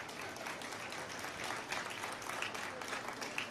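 Faint, scattered clapping from a distant crowd at a Congress party manifesto announcement, steady and thin throughout with no voices standing out.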